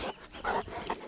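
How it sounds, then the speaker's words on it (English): Labrador dogs, excited after just being let out, pant in quick, breathy bursts close by, the rhythm rising and falling over about a second with no talk. "very excitable dogs just let out"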